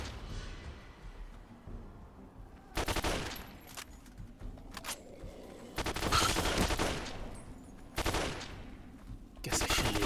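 Gunfire in the video game Fallout New Vegas: several loud bursts of rapid shots spaced a few seconds apart, over a quieter background murmur.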